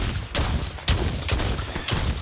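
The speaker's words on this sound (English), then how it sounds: "I'm shooting at him point blank" Rapid gunfire from shooting drones in Earthfall rattles continuously up close, with heavier shot bursts punching through at roughly half-second intervals.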